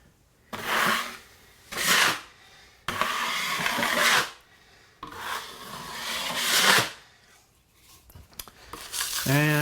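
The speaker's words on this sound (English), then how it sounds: "you take this big knife. And you go ahead and just smooth it out there" A big knife scrapes and smooths filler compound across a surface in several separate strokes, each a close, rough rasping swipe with short pauses between.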